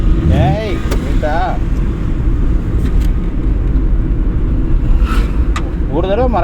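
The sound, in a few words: car engine while driving in fourth gear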